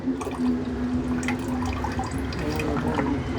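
Steady rush of water flowing from a motor pump with scattered drips and splashes, continuous and fairly close, with a low hum underneath.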